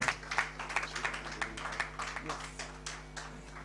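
Audience clapping at an award ceremony as a recipient walks up, a light, steady patter of many hands at moderate distance, fading slightly toward the end.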